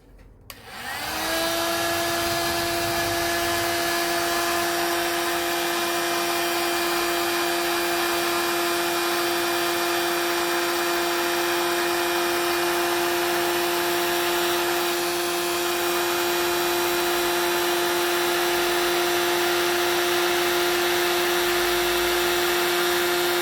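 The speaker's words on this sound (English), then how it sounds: "Now we can get the heat gun." A heat gun blows steadily with a loud, even whine while heat-shrink is shrunk over a cable during a split-charger install in a Ford Transit Connect Mk1 van; it runs continuously and alone, with no talk.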